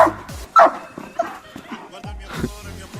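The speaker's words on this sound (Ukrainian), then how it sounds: "Охороняй, Роксі, охороняй, охороняй, охороняй! Охороняй!" A rottweiler gives short sharp barks and yips in bursts, close by, while a person repeatedly shouts a guard command over it.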